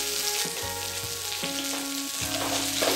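Ivy gourd curry frying on a low flame makes a soft, continuous sizzle close by, with faint steady tones running underneath and no voices.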